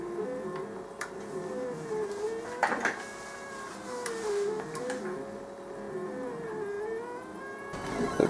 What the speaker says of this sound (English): at the moment it's printing a replacement part for itself